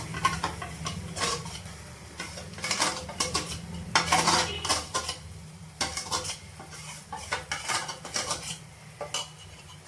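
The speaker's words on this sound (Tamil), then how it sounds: "அடுப்பை சிம்மில் வச்சுட்டு கிளறி கொடுங்க" A spoon scrapes and clanks against a pan over low heat while bottle gourd kofta gravy with its spice powder is stirred, giving close, irregular metallic knocks over a soft steady sizzle, with no talk.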